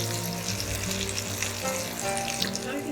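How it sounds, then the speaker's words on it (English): Brinjal (eggplant) sautéing in a hot pan gives a steady, close, dense sizzle and crackle with no pauses, heard alone without any talk. "Now we'll drop in the brinjal. And just saute this until it becomes slightly glossy."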